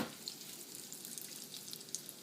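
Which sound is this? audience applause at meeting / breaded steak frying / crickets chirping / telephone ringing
breaded steak frying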